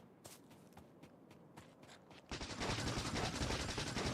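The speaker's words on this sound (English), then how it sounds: "Our weapon shooting speed should pick up here." Weapon turrets firing in Factorio: faint, evenly spaced single shots give way to a sudden, steady stream of rapid mechanical gunfire, loud and continuous for the last couple of seconds.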